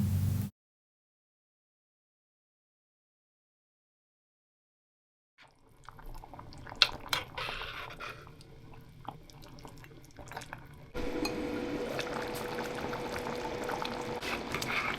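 Coconut cream poured into a cooking pot for Jamaican gungo rice and peas, a wet liquid splashing and dripping sound after a long silent pause, growing fuller and steadier toward the end.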